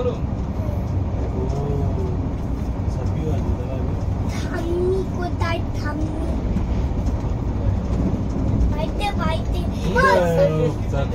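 Steady low rumble and rattle of the Saraighat Express rolling out of Howrah, heard from inside a first-class coach, continuous throughout with faint background voices.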